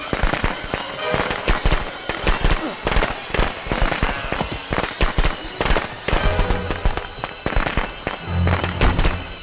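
Fireworks going off in the Friday the 13th The Game horror video game: a loud, continuous crackle of overlapping bangs and pops, with a low tonal hum entering near the end.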